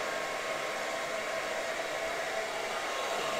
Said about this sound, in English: All right, time to dry the rest of my hair.